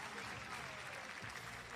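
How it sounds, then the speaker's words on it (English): Stadium crowd at a para athletics world championships applauding a women's pole vaulter, a steady, fairly distant wash of clapping and cheering with a commentator's voice over it. "Big cheer for her, as you would expect."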